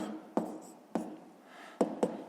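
A pen writes on paper during a math exercise, making four short scratchy taps, close and quiet, over a soft room hiss.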